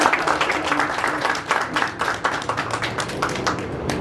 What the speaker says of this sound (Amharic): ሞቅ ባለ ጭብጨባ ምስጋናችን እንዲደርሳቸው